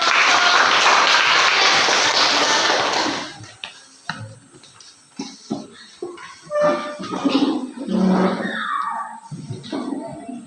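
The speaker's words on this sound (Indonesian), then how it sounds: "tepuk tangan untuk" Classroom audience applauding after a student group presentation, a dense burst of clapping for about three seconds that then breaks off, followed by scattered knocks, shuffling and murmured voices in the room.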